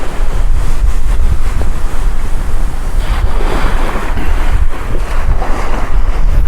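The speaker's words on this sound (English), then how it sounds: "Still blowing an ooly, but I mean it's dropping a little bit, you know. Still bloody windy though." Strong wind and crashing surf on an east coast UK beach during a sea fishing session, a loud continuous roar of wind buffeting the microphone over waves breaking steadily, with no voices.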